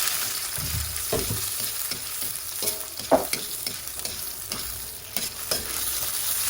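Garlic frying in a hot, thin pan, a steady broadband sizzle with scraping stir strokes and a sharp clatter near the middle, close and alone without talk.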